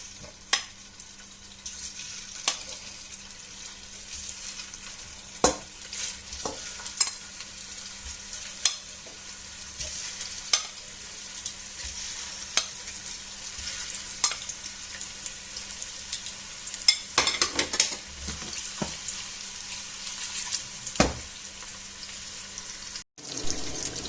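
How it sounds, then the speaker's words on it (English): Meatballs brown gently in a frying pan, a steady low sizzle running throughout with scattered sharp pops and clicks of utensils, close and without speech. "I'll add the meatballs in. And I'm just going to gently brown them all off on all sides."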